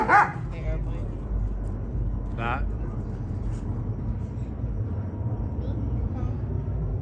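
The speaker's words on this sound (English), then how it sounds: "What is he barking at?" A dog in a backyard tent campsite lets out a few short, sharp barks, one at the start and another a few seconds later, over a steady low rumble, with people talking nearby.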